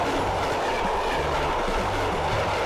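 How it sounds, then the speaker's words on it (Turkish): A long train rolls slowly along rails in a Taurus Mountains town, steady rumbling with rhythmic clickety-clack of wheels over joints, close and continuous with no voices. "tren yavaş yavaş gidiyor"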